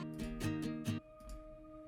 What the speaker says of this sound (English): Just have a listen to the synth itself.